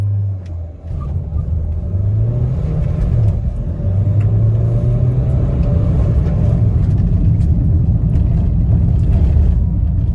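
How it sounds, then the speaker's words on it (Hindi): A Mahindra XUV300 launches from about 3000 RPM in first gear during a drag race, its engine rumbling and revving higher as it accelerates, loud and close from the cabin, with no talking. "इनिशियल गियर पे हूँ मैं अभी 3000 RPM पे अभी मैं उसको लॉन्च करने वाला हूँ।"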